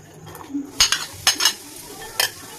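Three cracked eggs and chopped onion get mixed in a bowl, with a few sharp utensil clinks and scrapes against the bowl in short separated bursts over a quiet background.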